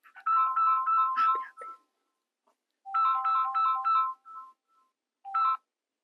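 A mobile phone rings with an incoming call in a quiet village home: a clear electronic ringtone melody plays in two long bursts, then starts a short third, with silent gaps between.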